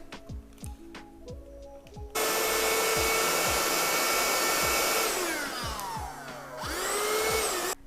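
A small handheld Keda car vacuum switches on abruptly with a loud, steady whine and airy roar, its pitch shifting slightly near the end.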